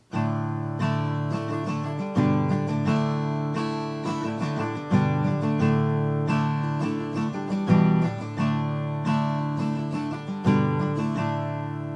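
Strummed guitar chords play a steady progression, each chord ringing out before the next, with no voices.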